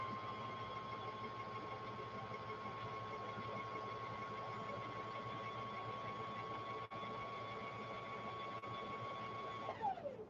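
A Juki sewing machine stitching in a steady, continuous whirring hum with a mechanical buzz, running evenly for several seconds before winding down abruptly at the end; close and moderately quiet, with no talking.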